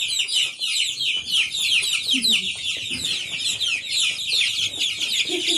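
A Barred Rock chicken clucks repeatedly in a close, busy burst of fowl calls, with other birds chattering around it and a little human voice underneath.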